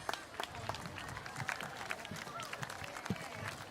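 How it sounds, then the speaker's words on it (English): Scattered applause from a small outdoor crowd at a Whitley Rose Queen crowning event, faint and irregular claps under an announcer's voice. "Big round of applause."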